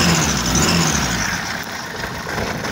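A car engine runs steadily with one spark plug wire pulled off, a rough continuous hum holding near and loud throughout without any talk.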